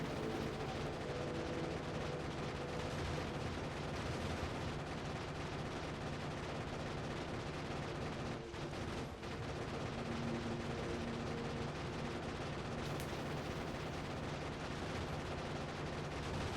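Gunfire in Factorio, a steady barrage of rapid shots and distant booms that blend into a dense, faint, continuous rumble with no speech.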